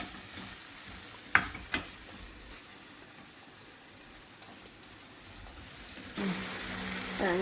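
Food sautés quietly in a pan with a soft, steady sizzle and a couple of sharp utensil knocks early on. The frying grows louder and busier toward the end.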